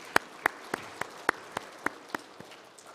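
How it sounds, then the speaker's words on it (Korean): Church congregation applause during a worship service, heard as a faint, evenly spaced run of about nine distinct claps, briskly rhythmic, then tapering off. "하나님께 박수 올려드립니다."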